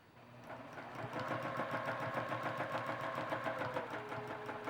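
A sewing machine runs free-motion quilting stitches at a steady, fairly quiet speed, a continuous rapid needle chatter building slightly then holding even throughout.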